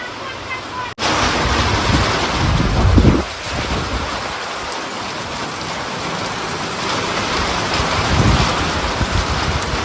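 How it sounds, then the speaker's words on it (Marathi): Steady heavy rain roars throughout at night in farm fields, with a low rumble swelling near the start that suggests thunder; a voice speaks briefly over the downpour. "तुम्हाला दाखवते विजांचा आवाज सगळा कसला आहे"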